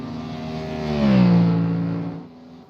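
A Mercedes-AMG race car in iRacing roars past during the 24 Hours of Nürburgring. Its engine note swells to a loud peak and then drops in pitch as it fades away, a single pass with no talking.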